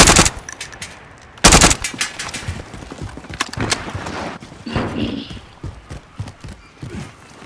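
Gunfire in Call of Duty: Modern Warfare, a Resurgence quads match on Rebirth Island, with loud sharp bursts and scattered rapid shots spread throughout, some close and some farther off, amid game effects.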